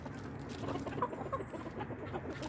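Chickens cluck softly in short, irregular bursts, with a low, busy background murmur of the flock.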